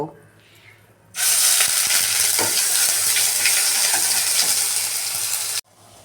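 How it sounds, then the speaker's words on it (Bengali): Spice paste hits hot oil left from frying parshe fish, already tempered with nigella seeds, and sets off a sudden loud, sustained sizzle after a quiet start. A stirring utensil scrapes and clinks under it until the sizzle cuts off abruptly. "ওই মাছ ভাজা তেলেতেই কালো জিরে ফোড়ন দিলাম, দিয়ে এবার মশলাটা আমি দেব।"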